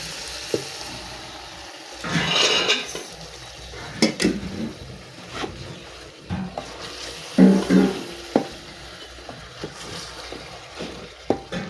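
Rice being washed in a pot, with scattered splashes, swishing water and clinks of grains and metal, moderately close and fairly quiet, with short bursts and pauses between.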